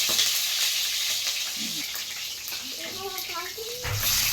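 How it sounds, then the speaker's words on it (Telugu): Chicken pieces hiss and sizzle as they drop into very hot oil, a steady crackling fry with bubbling spurts, moderately quiet, with a voice briefly speaking over it. "ఆయిల్లో చికెన్ వేసుకోవాలి. అబ్బో, చాలా వేడైంది."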